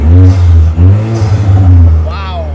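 Vanderhall Venice three-wheeler with a Chevy Cruze turbocharged engine and upgraded chrome side exhaust, revving in neutral close by, a loud throaty rise and fall under a voice talking.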